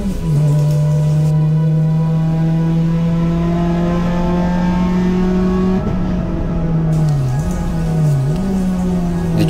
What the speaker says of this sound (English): that's me shifting from third straight to fifth gear